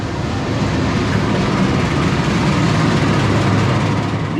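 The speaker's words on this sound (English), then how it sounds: "wait for the train to arrive" Loud, continuous rumbling roar of a train arriving at a station in Indonesia, rolling along the tracks close by, steady throughout with no voices.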